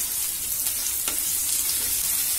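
Medium-sized chopped onions sizzle steadily in hot oil over a medium gas flame, a constant close, dense crackling hiss with a faint stir near the middle.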